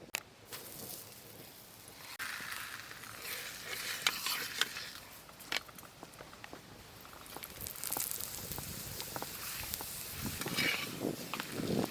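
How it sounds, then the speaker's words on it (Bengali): An egg paratha fries on a hot tawa with a little white oil, a soft crackling sizzle running throughout, broken by scraping and tapping as it is turned and pressed, fairly faint and close. "পরোটা ভেজে নেব।"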